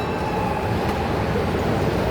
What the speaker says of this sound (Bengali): এখানে ট্রেন আছে